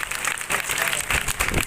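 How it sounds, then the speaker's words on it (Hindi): Audience at a political party gathering in India clapping in welcome, a loud, uneven burst of many hands with clustered peaks throughout. "ताली बजाकर उनका स्वागत करें।"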